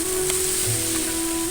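Leafy greens and garlic frying in hot oil in a pan, a steady close hiss and crackle of sizzling that holds evenly throughout, with a constant tonal hum underneath.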